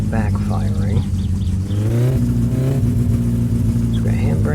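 A car engine in the video game My Summer Car runs rough and keeps backfiring, a loud steady mid-range drone with sputtering, uneven pops over about four seconds, near and continuous, with a voice talking over it.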